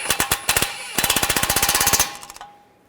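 A front lower control arm bolt and nut on a 2013-2015 Chevrolet Malibu being driven tight with an impact gun: a short burst, then a longer run of rapid hammering rattles that stops abruptly, loud and close.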